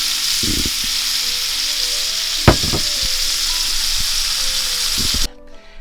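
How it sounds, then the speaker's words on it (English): Marinated chicken pieces sizzle and fry steadily in a pan, a loud continuous hiss broken by a few clattering knocks and taps before the sizzle suddenly drops away. "I've taken the marinated chicken and I'm just going to brown it before I stick it in my crock pot"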